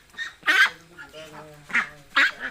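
Ducks on a duck farm give loud nasal honking quacks in several bursts, close by, with calmer stretches between calls and a voice talking beneath them.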